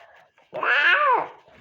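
A cat gives a single loud, drawn-out meow close by, rising and then falling over about half a second, with quiet background sounds before and after.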